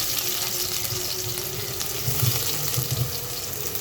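Chopped onion fries in oil in a pot, giving a steady, soft sizzle and crackle with faint bubbling throughout, without any voices.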